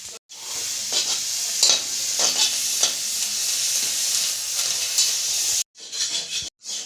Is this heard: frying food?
yes